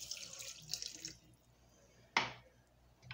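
Water from a large glass is poured into a cooking pot while making Moroccan harira, with a splashy pour at first, a short pause, then a sharp gush and trickle, heard close and fairly quietly.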